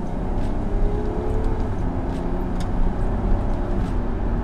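A 250-horsepower all-wheel-drive car's engine climbing in revs after a paddle-shifter downshift in drive, a continuous loud low rumble with a rising whir, heard from inside without talk.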